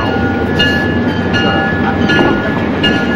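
A train rumbles along steadily, with faint rattling and clicking of cars and a thin metallic whine over the continuous roll.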